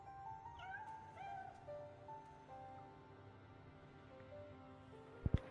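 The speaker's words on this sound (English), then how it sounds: "The cat." A cat meows several times, soft and fairly distant, in short rising calls over a quiet ambient background, ending with a pair of sharp knocks.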